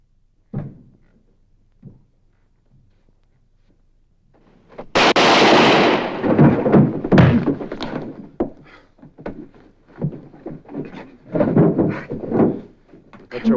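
Gunfire in a Western shootout: a couple of sharp reports early, then a loud burst followed by a run of ringing shots and echoes, close and forceful.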